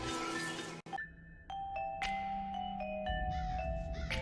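A doorbell chimes several descending ding-dong tones in sequence, clear and close, with light background noise.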